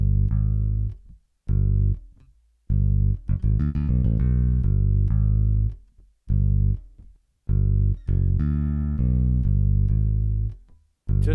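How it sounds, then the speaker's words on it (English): A bass line plays on its own, with a live acoustic-style bass tone in an Afrobeat groove, looping deep notes in short phrases separated by brief pauses, loud and upfront with no other instruments. "The bass I'll play on its own first, just so you guys can hear."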